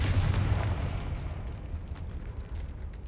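Confringo fire spell blast in Hogwarts Legacy, a loud low rumbling explosion that swells at the start and then trails off into a sustained roar and crackle.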